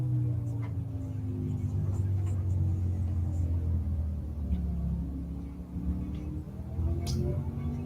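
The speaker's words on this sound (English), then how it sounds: "you should be hearing the net sounds coming out of his rig" Race car engine audio from an iRacing sim rig at Circuit of the Americas during a pro invitational, a steady loud droning note that keeps rising and falling in pitch as the car accelerates and lifts.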